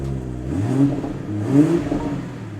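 A rebuilt, previously wrecked 2023 BMW M240i with a weak battery, its engine running near idle with two brief throttle blips that rise and fall, close and steady, with no talk.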